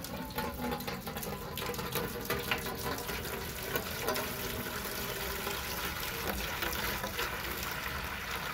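One gallon of water poured into a bucket for mixing an aircrete batch with Portland cement, a continuous splashing, rushing pour that holds steady throughout.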